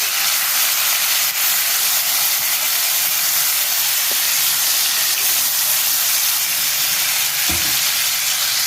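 Tomatoes and ginger-garlic paste fry with browned onions in a pan for a Lahori-style brain masala, giving a steady, loud hiss and sizzle throughout with a brief stirring knock near the end, and no voices.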